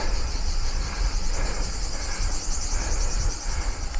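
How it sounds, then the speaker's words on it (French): Cicadas buzz continuously in a vineyard landscape on the road toward Mont Ventoux, a steady dense shrill drone throughout with a low rumble beneath. "On a les cigales."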